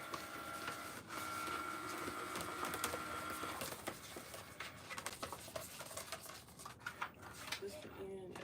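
A Cricut cutting machine runs steadily while cutting material for Etsy orders, a continuous mechanical whir with a faint tone early on and small ticks and clatters later. It is fairly quiet and close, and a voice is briefly heard.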